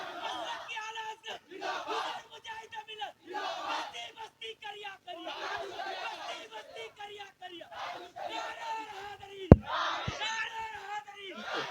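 A crowd at a naat gathering for the Palestine cause roars a loud Takbir chant in response, massed voices swelling and falling in repeated waves with a brief sharp thump near the end.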